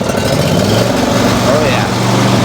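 A revived, long-dead Deere machine's engine cranks and catches, settling into a steady, rough low rumble that runs loud and continuous throughout, with some speech-like noise mixed in.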